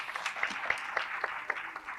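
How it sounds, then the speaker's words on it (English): A quiz audience claps briefly for the competing teams after the first round scores, a thin patter of hands at moderate distance with a few sharper individual claps standing out. "let's give them a round of applause"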